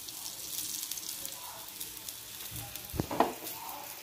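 Ragi roti frying in oil in a pan, a steady faint sizzle throughout with a couple of louder scraping clatters near the end.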